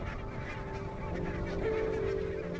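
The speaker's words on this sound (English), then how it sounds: "Every winter, barnacled geese arrive right on cue at the same Scottish river." Barnacle geese at a Scottish river in winter, a continuous chorus of honking calls from a flock at moderate distance, steady and overlapping with no pauses.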